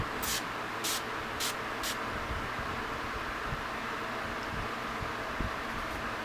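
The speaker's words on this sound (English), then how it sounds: "the next one that I'm going to be using is the Urban Decay Chill Makeup Spray" Four quick spritzes of a makeup setting spray bottle hiss near the start, short bursts about half a second apart, over a quiet background hum.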